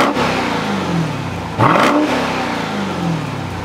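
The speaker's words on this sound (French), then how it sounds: "un échappement double pour entendre le son de notre moteur Hellcat" A 2021 Dodge Durango SRT Hellcat's supercharged Hellcat V8 revs through its dual exhaust, rising and falling in two loud, close blips with a steady rumbling idle between them, no voices.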